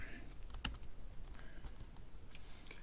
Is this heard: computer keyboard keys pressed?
yes